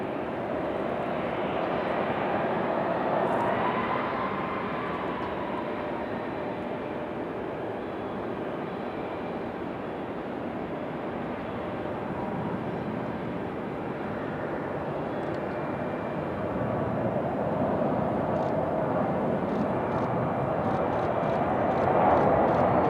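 A Boeing 737-700 airliner at Raleigh Durham airport gives a broad, steady jet roar that holds loud for over twenty seconds and swells toward the end, heard from a distance with no voices.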